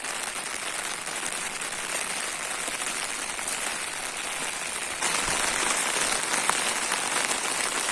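Heavy rain pours steadily onto an umbrella and forest ground during a summer mushroom hunt, a dense, continuous hiss that grows louder partway through, with no talk.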